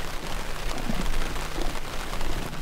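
Steady rain patters on the surface around an outdoor fishing spot on a showery day, a dense, even hiss with scattered nearby drops, no voices.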